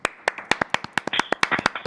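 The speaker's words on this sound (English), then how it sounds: "we just want to applaud you" Scattered hand claps from a small audience at a meeting, welcoming a new appointee: a dozen or so sharp, uneven claps over a couple of seconds, close and fairly sparse rather than a full ovation.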